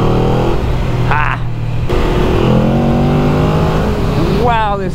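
A powerful cruiser motorcycle accelerates hard through the higher gears, its engine note loud and close and rising steadily under wind rush, with a brief dip during a gear change and a voice heard briefly.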